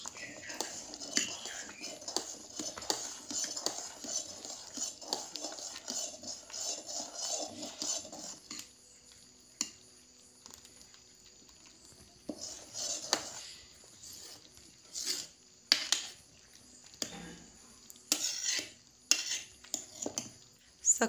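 Spoon scraping and clinking against a pot while a sweet rice dish with cardamom powder is stirred in a village kitchen, in irregular bursts of close scrapes with quiet gaps, and faint whispery voice now and then.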